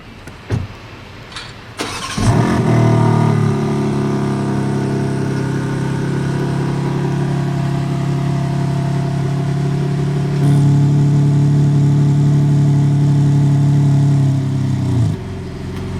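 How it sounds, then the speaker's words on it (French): A BMW M3 G80 engine fires up and holds a loud, steady rev with its exhaust valves open, the deep drone rising briefly toward the end before cutting off, heard up close with no talking. "Vous avez vu, on aurait dit qu'il a ouvert des valves"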